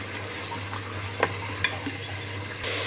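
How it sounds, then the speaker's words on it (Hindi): Mutton fries with onions in a pan, a steady close sizzle over a low hum, with a couple of sharp utensil scrapes as the meat is stirred and no talking. "दो से तीन मिनट हम मटन को डाल के भून लेंगे प्याज के साथ"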